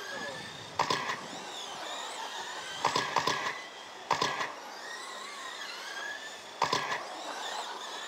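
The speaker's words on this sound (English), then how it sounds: "Listen to that wheel scrub uh, coming in the corners on that blue car there." A blue RC short-course car at a small race track scrubs its tyres through the corners, producing repeated brief scraping bursts over a steady whine of other cars circling the track.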